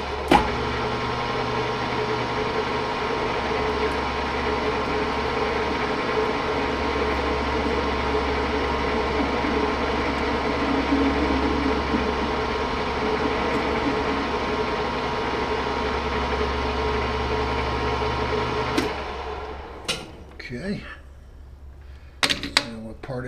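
A metal lathe in a home workshop runs steadily, cutting a 45 degree taper on the back side of a valve, a continuous whine and hum for most of the clip before the machine stops and a few clunks follow.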